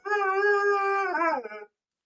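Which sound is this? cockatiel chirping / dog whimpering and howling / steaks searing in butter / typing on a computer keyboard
dog whimpering and howling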